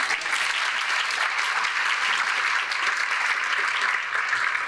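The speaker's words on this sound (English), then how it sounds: "A big round of applause for all of our judges." An audience at the 2023 Young Floridian Awards ceremony applauds the judges, a dense, sustained round of clapping heard alone for several seconds.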